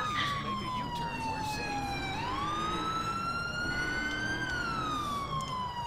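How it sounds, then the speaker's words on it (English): Police car siren in the video game LCPDFR, a loud, close wailing tone that slides down, then sweeps back up and holds, continuous throughout with faint talk beneath it. "Do you see my lights and sirens?"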